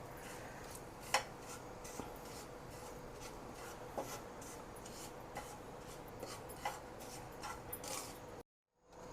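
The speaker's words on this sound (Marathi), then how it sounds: "त्याच्यातच हे खोबरं घेते आणि तेही भाजून घेते." Desiccated coconut is roasted in a spoonful of ghee in a pan, heard as quiet, continuous scraping and rubbing of a spoon against the pan, with a few sharper clinks along the way.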